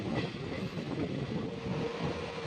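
A Howrah–Medinipur local train runs through the night with a steady, loud rumble and rattle of carriages and wheels on track, continuous and close, with no voices.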